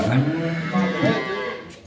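A dairy cow moos nearby, a few low drawn-out calls rising and falling, loud and close.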